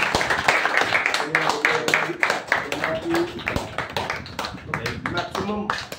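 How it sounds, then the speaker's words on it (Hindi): Applause from attendees at a Unnao Mahotsav planning meeting with journalists, scattered irregular claps running throughout, mixed with chatter and voices talking over them. "आप लोग तालियों से स्वागत करें।"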